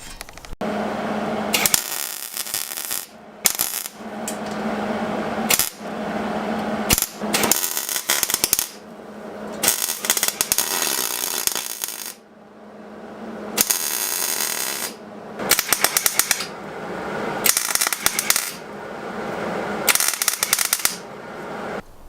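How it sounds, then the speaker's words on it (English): A new fender is welded onto a Nissan 240SX body shell, heard as bursts of loud, harsh, crackling buzz of a few seconds each, split by short silences, close by and with no talking. "So now I'm going to hit this with a weld."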